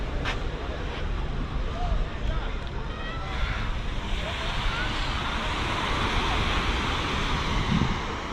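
Surf washes continuously onto a local yellow-sand beach in a small bay in Rio de Janeiro, a dense, steady roar with wind buffeting the microphone throughout.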